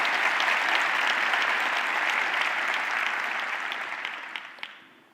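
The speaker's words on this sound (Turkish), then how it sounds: "Tek alkış bu olabilir arkadaşlar" An audience at a talk applauds steadily, a dense wash of clapping that holds for a few seconds and then tapers off, with a couple of last claps near the end.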